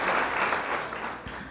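Audience applause at a live comedy or call-in show, a steady wash of clapping holding for the whole moment at moderate volume.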